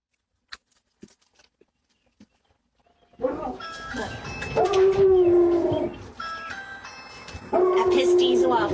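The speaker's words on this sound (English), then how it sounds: "this woman is audibly startled by dogs barking from inside the house" Dogs barking and howling from inside a house, loud and close after a few seconds of near silence, in repeated bursts.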